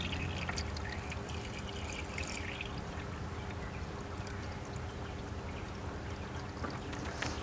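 Coolant pours into the radiator of a BMW E90 328i, a steady gurgling trickle of liquid with small splashes, fairly quiet and continuous over light background noise.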